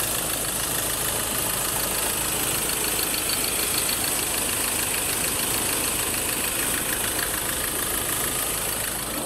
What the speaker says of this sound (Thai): เดี๋ยวเรามาฟังเสียงเครื่องด้วยว่ามันดังมันเบาแค่ไหน